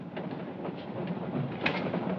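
Moving train rumbling along the rails in a 1972 film, a steady low roar with faint rhythmic clicks and a sharper clack near the end.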